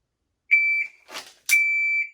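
Two sharp electronic shot timer beeps during dry-fire draw practice, each a steady high tone about a third of a second long, separated by a brief burst of noise.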